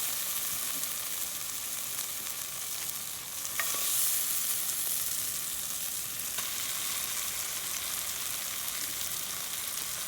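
Onions fry for chili in a pan, giving a steady, moderately loud sizzle with a couple of faint clinks partway through and no talk.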